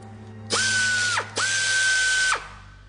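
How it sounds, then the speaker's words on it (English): Two locking cylinders turn counterclockwise in two separate mechanical whirs, each rising quickly to a steady motorized whine before cutting off. The sound is loud and close, with a brief pause between the bursts. "Rotate the two locking cylinders counterclockwise."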